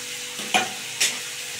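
Green tomato curry being stirred in a pan: two short, distinct scrapes of a spoon against the pan over a faint background sizzle, close and clear.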